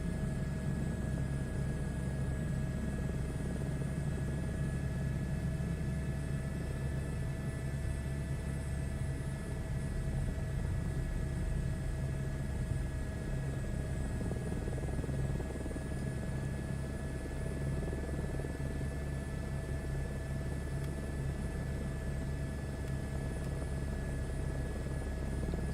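A helicopter in a flight simulator game hums with a steady rotor and turbine drone, continuous and even throughout with constant engine tones and no talking.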